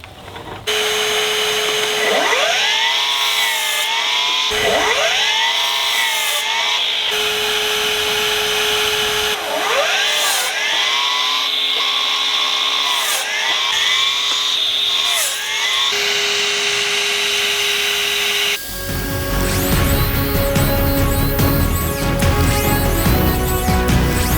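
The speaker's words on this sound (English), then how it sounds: "It is just cutting through this 2x4 like butter." A Milwaukee M18 Fuel dual-bevel 12-inch cordless miter saw spins up and cuts through a 2x4 several times, each cut a loud whining whir with the pitch dipping under load, ending in a louder sustained run.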